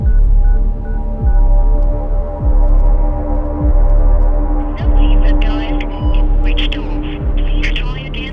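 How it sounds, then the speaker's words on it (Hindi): A telephone dials out in a Hindi-dubbed film scene, a call to a switched-off phone: a repeated beeping tone pattern over a steady throbbing hum, fairly loud and continuous throughout. "सर, फोन स्विच ऑफ आ रहा है सर।"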